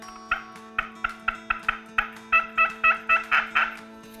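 An Easy Yelper turkey call worked by hand, producing a rapid run of about a dozen sharp yelps that build toward the end, loud and close over a faint steady hum.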